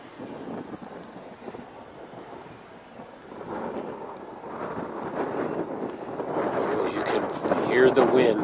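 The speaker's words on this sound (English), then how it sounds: "Hear the wind." Gusty wind sweeps across the microphone by a creek, a steady broadband rush that swells louder toward the end, with no speech.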